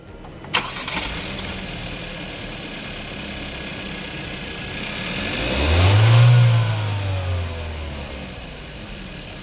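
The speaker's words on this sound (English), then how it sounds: "Start the engine" A Kia/Hyundai 1.6 T-GDI car engine is started with a sharp crank, then settles into a steady idle. It revs up strongly once partway through and drops back to running.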